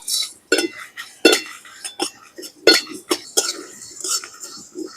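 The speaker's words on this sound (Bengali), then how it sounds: "এগুলোকেই শুকনো কড়াই ভেজে নেব" A spatula clinks and scrapes in a dry wok while dried chillies, cumin, coriander and fennel roast, making irregular close, sharp taps and stirring strokes with quiet gaps between them.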